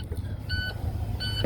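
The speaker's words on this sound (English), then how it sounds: "And going by the beep" A warning beep from the dashboard of a Prostar truck with an ISX engine and a DEF heater fault, sounding as two short, steady electronic tones about half a second apart over a low idling rumble.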